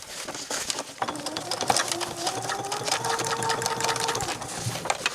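A domestic sewing machine stitches across a thick seam on jeans, its fast, even needle chatter running continuously and close throughout.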